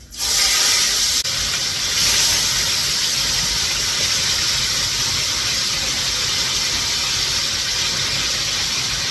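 Steam hisses steadily from a pot of vegetable rice as it cooks, a continuous broad hiss that holds at an even level throughout with no talking.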